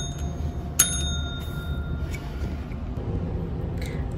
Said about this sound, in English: I do have her little bell right here.